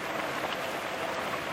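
Heavy, torrential rain pours down on a village, a dense and steady wash of drops that stays continuous and even from start to finish.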